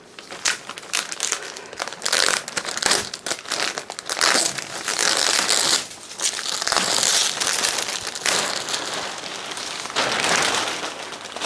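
Thick plastic packaging from a 44-inch sublimation roll heat press is crinkled and crushed close by during unboxing, a dense run of loud rustling and crackling bursts with brief pauses, and no one talks.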